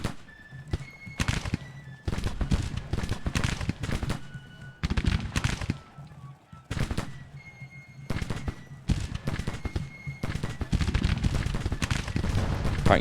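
Artillery and musket fire in the Grand Tactician: The Civil War strategy game, loud irregular volleys of booming cannon shots and crackling gunfire in dense bursts with short gaps.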